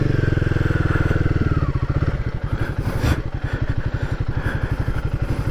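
A Royal Enfield Guerrilla 450 motorcycle makes a slow turnaround, its single-cylinder engine thumping in a close, steady rhythmic beat that dips and pulses slightly as the throttle shifts.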